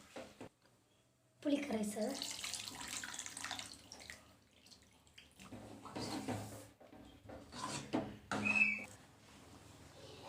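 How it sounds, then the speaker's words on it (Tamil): Water pours and splashes into a metal pressure cooker of okra sambar for several seconds, with faint background voices and a few clanks of the vessel. "குக்கரில் கொஞ்சமாக தண்ணி சேர்த்து சேர்த்துருக்கேன்"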